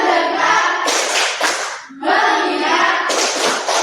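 Loud, rhythmic group clapping for the 'tepuk fokus' clapping game in a class, several crisp bursts separated by a short pause, with voices chanting between and over the claps.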